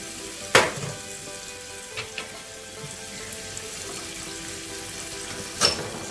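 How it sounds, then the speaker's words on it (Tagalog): Shrimp frying in a pan gives a soft, steady sizzle with a few sharper clanks of utensils against the pan, quiet and close, no talking. "Ayan, napiprito na po yung ating shrimp."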